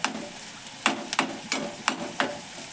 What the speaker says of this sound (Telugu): వెల్లుల్లి అల్లం పేస్ట్ వేసేస్తుంది ఫ్రై అయ్యేటప్పుడు ముక్కలు కూడా ఫ్రై అయిపోతుంది